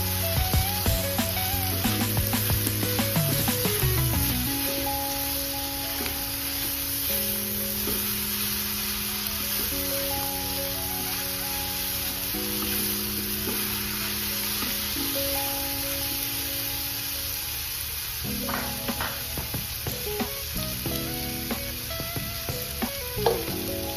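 Shrimp frying under a lid in a covered pan makes a constant hissing sizzle that runs throughout, partly masked by a louder backing of music with sustained tones.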